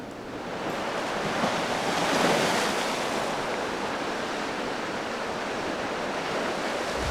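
Surf rolls in steadily beside a seaside campsite on the Albanian Mediterranean coast, a broad wash of waves that swells around the second or third second, mixed with wind buffeting the microphone.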